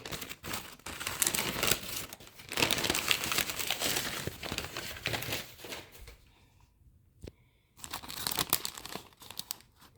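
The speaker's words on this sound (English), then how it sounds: "So I just pull out all the packaging." Crinkly plastic packaging pulled from a shipping box of David Austin wedding roses, rustling and crackling close by in quiet bursts, with a brief lull partway through before the crinkling resumes.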